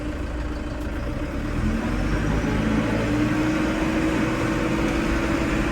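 A Valtra N92 tractor pulls away in the fast reduction range, its engine a steady low drone that swells slightly and holds loud and close, with a faint rising whine, no voices.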